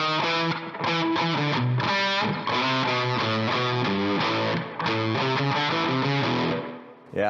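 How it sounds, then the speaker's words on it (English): Distorted electric guitar plays a studio riff variation leading into the chorus, a steady run of choppy, repeated chord stabs and notes with brief gaps, loud and alone without talk. "On the studio version, they had this cool little alternate sort of variation that gets them into the chorus."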